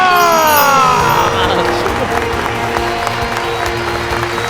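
Audience applause at the Voice of Punjab Chota Champ season nine singing competition: broad, loud clapping and crowd noise fill the whole stretch, with sustained musical or sirenlike tones sliding underneath and no clear speech.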